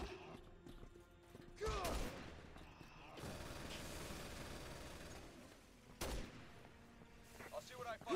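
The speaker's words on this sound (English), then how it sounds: "they're using the turrets on us" Resident Evil 6 gameplay in which enemy turrets open fire on an airship: two heavy bursts of gunfire with mechanical clanks and a low rumbling background, fairly distant and subdued.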